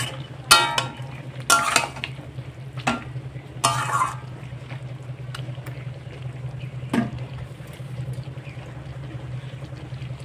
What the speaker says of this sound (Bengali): আবার আমি একটু নেড়ে নিচ্ছি।